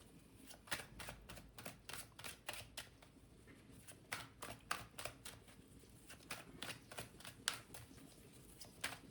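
A tarot deck is handled while a card is drawn: a fast, steady run of soft papery flicks and snaps, close and quiet, with no voices.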